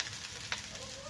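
Ginger, garlic and chilli fry in hot oil in a kadhai, giving a soft, steady sizzle with one brief stirring scrape, quiet and close without talk.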